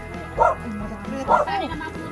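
Two sharp dog barks, about a second apart, ring out in a house yard with speech going on around them.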